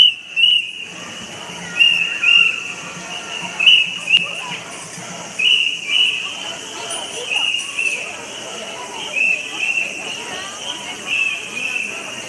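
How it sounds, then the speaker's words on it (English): Shrill whistles blow repeatedly at a Tokyo summer festival at Tsukuda Sumiyoshi Shrine, sharp bursts cutting through a lively crowd while people talk nearby. "It's really getting loud with the whistles blowing."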